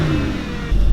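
A Mercedes SLS AMG engine revs loudly up close in a short, roaring burst, its pitch sliding, then a deep low rumble swells at the end.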